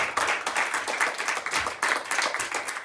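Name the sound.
congregation applauding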